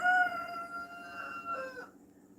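A rooster crows once, a drawn-out tonal call fairly close and clear against a quiet background, fading off before the end.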